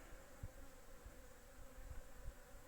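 Bees buzzing around in winter in a soft, continuous drone, with faint low thumps now and then; quiet and steady, no voices.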